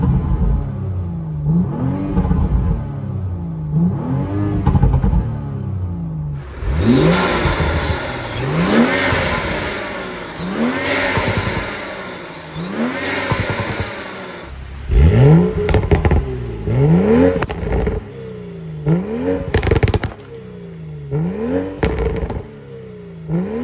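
A BMW 435i engine with a VRSF catless downpipe revs hard in repeated rising bursts, a raspy, loud exhaust roar climbing and dropping, with crackling pops between pulls.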